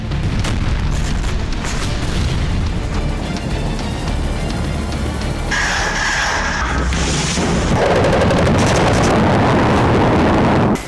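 Fagot anti-tank guided missile strikes in the war zone around Zaporizhzhia produce a dense, continuous rumble of booms and blasts. It stays loud and heavy throughout, with no speech over it.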